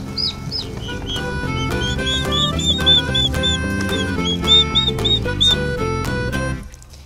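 Two turkeys on a homestead give a run of high, repeated chirping and clucking calls, close and continuous, over a dense layered background.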